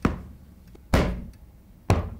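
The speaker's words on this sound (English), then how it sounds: "I'm going to knock a hole through this wall with my head" Three heavy, dull thuds of a head knocking against a wall, spaced about a second apart, each booming low and decaying quickly, close and loud with no talking.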